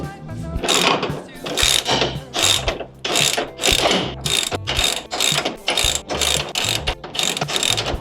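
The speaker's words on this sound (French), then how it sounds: "Je vais maintenant serrer mes boulons de tirant de pont." Ratchet wrench tightening the axle tie-rod bolts on a Nissan Patrol Y60 during a suspension lift, a loud, close series of rapid clicking bursts in a repeating back-and-forth rhythm throughout, with no talk.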